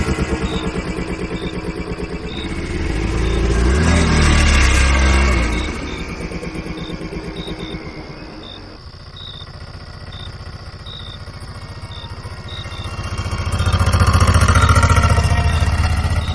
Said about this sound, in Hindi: इंजन स्टार्ट किया और बिना ज्यादा कुछ बोले हम वहां से निकल पड़े।